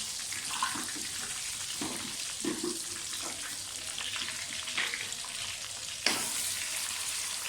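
Whole spices sizzle in hot oil for aloo gosht, a steady close frying hiss with scattered crackles and pops and one sharper burst near the end, without speech.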